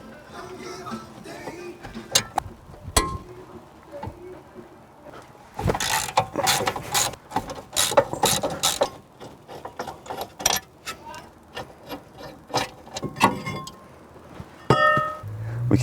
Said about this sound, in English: we need to remove the 2 bolts that mount the brake caliper brackets onto the wheel hub